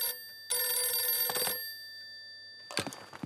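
A telephone bell rings in one long burst, then stops after a second, with a second ring starting near the end; loud, close and alone with no speech.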